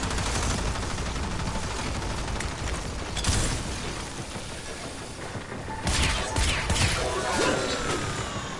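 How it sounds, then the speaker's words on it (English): Gunshots crack in Warframe during The New War amid steady, cluttered combat noise, with heavier bursts and impacts landing around the middle and again toward the end. "I shoot."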